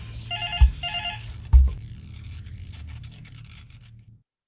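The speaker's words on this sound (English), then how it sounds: "Okay, sorry, got a phone call right now." A telephone rings in two short trilling bursts, followed by a couple of loud thumps and clattering handling noise before going quiet.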